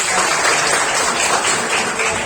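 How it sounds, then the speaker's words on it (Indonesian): Classmates in a school classroom clapping for a student's answer, a loud, close, brief burst of dense applause. "Tepuk tangan teman-teman."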